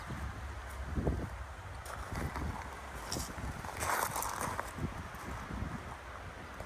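Strong gusts of wind buffet the microphone outdoors on a newly laid flagstone patio, a rough fluttering roar with bursts and rustles that rise and fall over several seconds.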